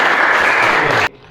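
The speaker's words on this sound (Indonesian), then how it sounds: "Berikan tepuk tangan untuk Maria." Students in a classroom clap for a classmate, a short burst of dense applause that cuts off abruptly near the end.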